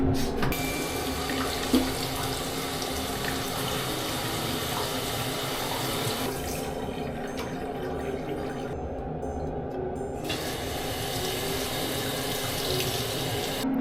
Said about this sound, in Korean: 여기서밖에 물이 안 나와요 그래서 샤워할 때 항상 이걸로 씁니다